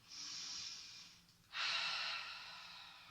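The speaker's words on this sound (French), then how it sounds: "Et là, on rentre dans la respiration thoracique." Thoracic breathing during a Pilates exercise, heard as two long, airy breaths close up: a steady inhale, a brief pause, then a stronger, hissing exhale that slowly fades, with no talking.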